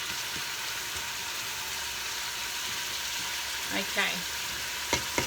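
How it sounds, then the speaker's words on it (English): Onions soften in a pan for butter chicken, a quiet, even frying hiss held at low level, with a few soft clinks and a brief spoken word near the end. "You just want to soften up your onions a bit"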